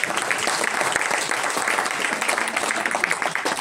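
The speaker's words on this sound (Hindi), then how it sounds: "अपने आप के लिए ताली बजाओ।" Audience applause at a talk in India, a dense, continuous clapping that stays loud and even throughout with no pauses.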